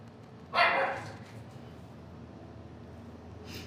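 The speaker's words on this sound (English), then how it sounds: "There's the puppy." A puppy gives one short, fairly close bark or yip burst, followed by a faint second yip near the end, over a quiet steady room hum.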